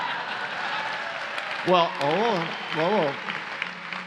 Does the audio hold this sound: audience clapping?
yes